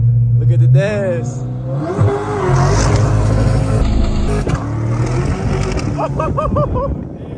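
A C8 Corvette launches hard from a standstill, its engine revving and climbing through rising pitch sweeps with gear changes, loud inside the cabin while people talk over it.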